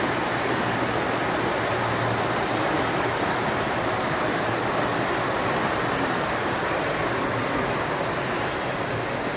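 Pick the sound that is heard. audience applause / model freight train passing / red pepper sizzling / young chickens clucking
model freight train passing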